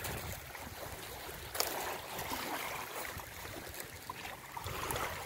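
Waves wash steadily against the shore of Lake Ladoga, a large lake, making a continuous broadband rush with no voices over it.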